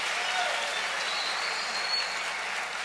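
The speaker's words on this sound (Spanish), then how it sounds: "Dale un aplauso otra vez al Rey bendito." Congregation applauding during a sermon, a steady, uniform hiss of many hands clapping, heard at moderate level without pause.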